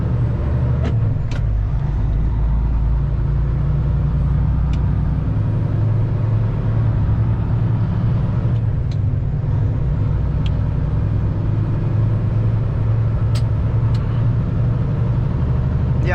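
Chicago Heights bus number 352 on an Illinois road, a steady low engine rumble and road noise that holds for the whole stretch, with a few faint sharp hisses or clicks over it and no one talking.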